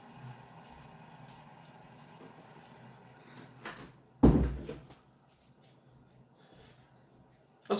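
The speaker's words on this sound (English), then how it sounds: "Just gonna close the door." A room door closes with a single sharp thud in a quiet indoor space, followed by fading rattle and low background hum.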